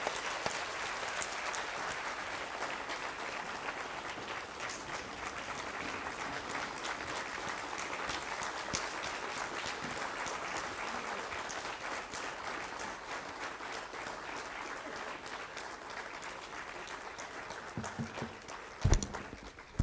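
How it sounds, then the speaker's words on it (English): Sustained audience applause at the end of a scientific session talk, dense continuous clapping from a large crowd heard up close, with no speech, tapering slightly near the end. "let us applaud him once"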